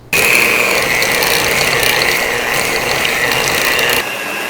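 Cream cheese for a tart filling being beaten with an electric mixer, a loud steady whirring drone with a grinding mechanical edge running continuously and shifting slightly near the end.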